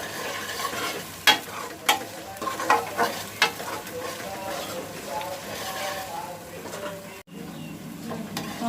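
Tomatoes frying with onion, garlic and ginger for a restaurant-style chicken karahi, stirred with a spoon: steady sizzle, with several sharp scrapes and knocks against the pan early on and a brief dropout near the end. A voice talks faintly over it.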